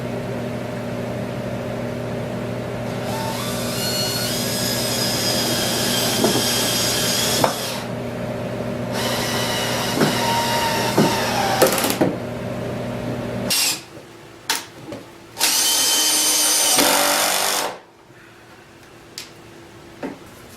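A power sander runs over a wooden taxidermy habitat build in several stretches, starting and stopping with steady whirring and rubbing, with brief pauses and light handling noises between passes.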